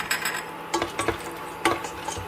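Chopped nuts are stirred while roasting in a pan, with a few short scraping and clinking strokes of a utensil against metal and a soft sizzle between them.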